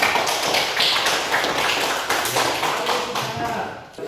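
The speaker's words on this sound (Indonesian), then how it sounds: "kita sambut kelompok 1 dengan tepuk tangan" A classroom of students claps to welcome a group, a dense, steady patter of many hands close by that continues for a few seconds with little pause.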